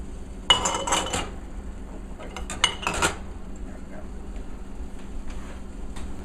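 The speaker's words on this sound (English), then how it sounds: "we're putting the jars down into the water to get them sterilized" Glass jars clink and knock against metal as they are lowered into a pot of boiling water for sterilizing, a few clustered rattles with a hiss of water underneath and faint talking.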